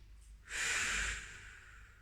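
A single soft, airy exhale during a Pilates butterfly stretch, a gentle breath through the nose lasting under a second, close and quiet in an otherwise still room.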